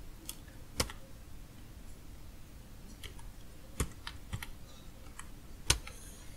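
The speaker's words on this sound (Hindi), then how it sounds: "तो मैं यहाँ पर अब लिखूंगा skyZIP proxy" Sparse keystrokes on a computer keyboard while a proxy extension name is entered, with separate clicks and a few louder, sharper key hits over quiet room noise and no talking.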